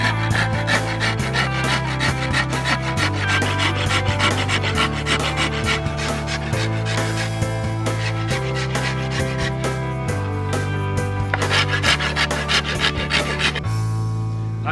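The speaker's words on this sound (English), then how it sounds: "So I prefer to use the rasp for shaping my handle." A wood rasp works a primitive wooden bow handle in steady, rhythmic back-and-forth strokes, a close, coarse scraping that repeats evenly for the whole stretch.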